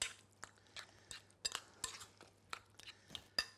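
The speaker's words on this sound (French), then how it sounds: "Je remue." A spoon stirs thick crème fraîche in a dish for a courgette gratin, giving quiet, irregular clinks and wet scrapes against the container, close and isolated with no talking.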